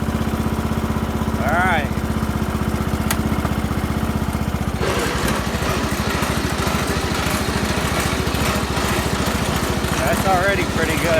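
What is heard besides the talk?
racing lawnmower engine driving in first gear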